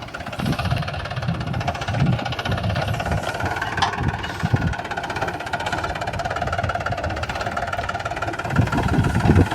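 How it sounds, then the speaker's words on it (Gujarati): A tractor engine chugs steadily nearby, a loud low rumble with knocking that stays constant throughout. "આપણે ટ્રેક્ટરને ટપાડવું છે"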